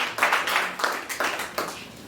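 A church congregation clapping together during worship, with steady, evenly spaced claps at a moderate, fairly soft level and no talk over them.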